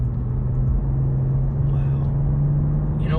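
A 2022 Cadillac CT4-V Blackwing (472 horsepower) under way, with a steady low engine drone and road rumble throughout.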